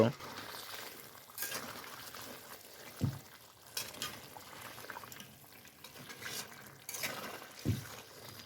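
Mutton with lemon juice being stir-fried in a pot for biryani, a continuous sizzle and wet bubbling broken by a few clanks of a spoon against the pot, with a voice at times.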